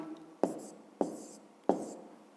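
Pen or chalk writing out the third step of a fifth-grade math problem, heard as three sharp strokes about half a second apart, each fading quickly, close and fairly quiet with no talk.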